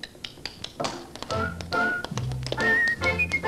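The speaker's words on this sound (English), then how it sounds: "The taps, the familiar taps, and the whistling." Quick, crisp tap-dancing footsteps in a lively rhythm, joined partway through by a bright, wavering whistled tune.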